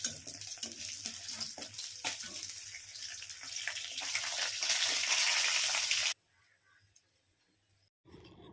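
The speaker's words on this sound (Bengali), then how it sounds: "তারপরে ওই তেলের মধ্যেই দিয়ে দিলাম জিরে ফোড়ন" Cumin seeds tempering in hot oil left from frying fish give a steady, loud crackling sizzle for about six seconds, then stop abruptly into near silence, with a faint clatter at the very end.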